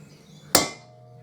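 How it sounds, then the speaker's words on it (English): A single loud hammer strike on a socket, driving the swingarm shaft out of a 2005 Harley-Davidson Electra Glide motorcycle, a sharp metallic whack that rings briefly and fades, with no talk. "Might take a couple of good whacks"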